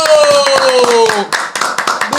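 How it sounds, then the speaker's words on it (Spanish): A few people clap hands in quick, uneven bursts close by while watching an anime episode, with loud overlapping voices and music running under the claps. "¡Un aplauso, un aplauso!"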